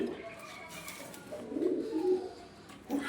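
Pigeons in a breeding loft, some laying eggs and raising young, give soft, repeated low cooing close by, rising and falling in a few swelling phrases with a faint background hum.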